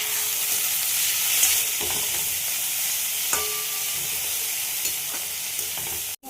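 Chopped green chili, ginger, capsicum and tomato frying together in a pan for mixed dal, a steady close sizzle with occasional soft clicks of stirring.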